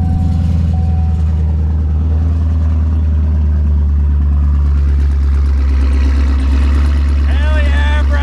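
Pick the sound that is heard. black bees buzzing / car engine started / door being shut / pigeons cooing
car engine started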